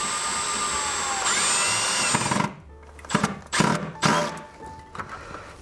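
A power drill whirs for about two seconds, then several short bursts follow as screws are driven to fasten LED light wire stays to wooden casework.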